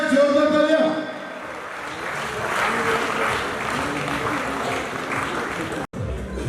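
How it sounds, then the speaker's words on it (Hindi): Steady, dense applause from an audience at an animal husbandry launch event fills the hall for several seconds, with a voice over the start and a brief dropout near the end. "आपकी ये जोरदार तालियां"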